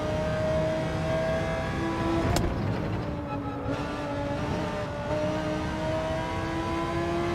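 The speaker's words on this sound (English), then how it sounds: "Definitely one of the better sounding cars in Group 3." A Group 3 race car engine in Gran Turismo 7 revs steadily with a sustained, loud tonal whine that rises and falls in pitch, with a sharp click partway through.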